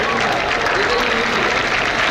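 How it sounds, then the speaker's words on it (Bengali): Spectators in the stands at Shaheed Chandu Stadium, Bogura, applaud as batsman Akbar Ali walks off the cricket field after being dismissed, a steady dense wash of clapping throughout with crowd murmur mixed in. "এমন ইনিংস খেলে আউট হয়ে মাঠ ছাড়ার সময় দর্শকরাও হাততালি দিয়েছেন আকবরকে।"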